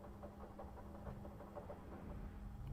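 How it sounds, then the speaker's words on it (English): An aircraft's left engine runs in a flight simulator game, giving off a low, steady hum that stays faint and even for a few seconds with no talking. "the sound is stunning. The left engine."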